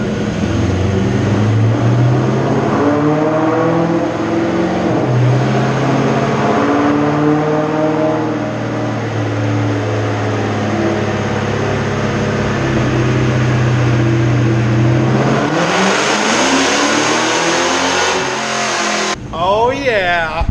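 Ford Mustang engine roaring steadily on a nitrous run, loud and close with a sustained droning pitch that climbs toward the end before cutting off, while a voice talks over it.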